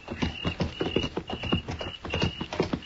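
Hooves clip-clop at a walking pace over hard ground, a busy overlapping rhythm from several horses, with a steady background hiss.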